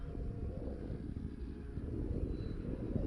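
An E-flite T-28 RC plane on its maiden flight, running on a 3-cell battery, drones steadily in the distance through outdoor wind noise.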